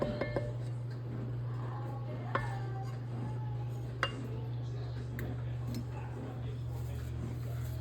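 A spoon stirs milk in a metal pot while making mozzarella, giving faint scraping with occasional sharp clinks against the pot over a steady low hum, while a person talks.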